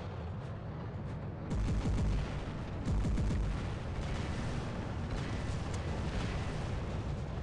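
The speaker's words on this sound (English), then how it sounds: "That guy's just shooting his own teammate." Robot weapons firing in the War Robots video game during a team deathmatch: a dense, roaring barrage of continuous gunfire and blasts, with heavier bursts punching through around two and three seconds.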